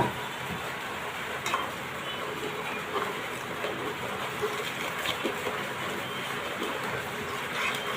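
Sugar being stirred into milk in a pot, a steady soft scraping and swishing that continues evenly throughout with a few faint clicks, close by and without talk.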